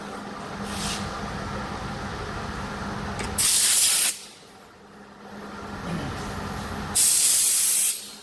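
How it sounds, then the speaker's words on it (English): A hand suction tool draws brake fluid out of a car's brake reservoir during a brake flush, giving two loud bursts of hissing, spraying suction separated by a quieter pause over steady background noise. "I'm going to suck the fluid out of the reservoir first."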